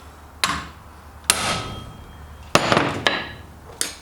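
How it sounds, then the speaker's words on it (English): A hammer strikes an impact driver set in a seized screw, giving about five sharp metallic blows at irregular intervals, each ringing briefly before decaying. "we're going to hit this with a decent belt of the hammer"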